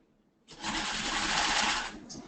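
Sewing machine stitching piping onto a ballet bodice, a steady close whirring run of about a second and a half that starts abruptly and stops, with a brief second burst just after.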